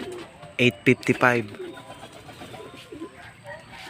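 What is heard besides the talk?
racing pigeon cooing after derby lap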